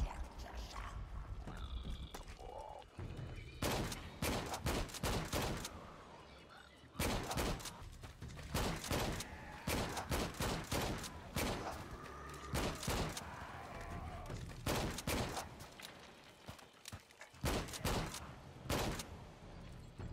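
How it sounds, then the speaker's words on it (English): Silenced pistol shots in the Shadow of the Tomb Raider jungle: loud, sharp bursts fired in quick clusters and spaced volleys over a constant game ambience, with a pause of several seconds between groups. "it was my silenced pistol, which is very loud"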